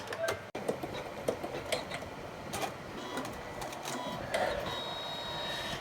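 Embroidery machine stitching out a dress design in green thread, a soft rapid mechanical whirring with irregular clicks and taps, fairly quiet and continuous.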